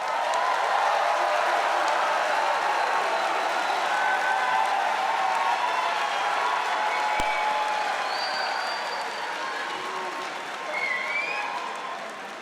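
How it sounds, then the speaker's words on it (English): A large audience at a graduation convocation ceremony claps and cheers, a dense, sustained roar of applause with scattered whoops, tapering slightly toward the end. "So let's give a big cheer and a round of applause for Biniam Teki."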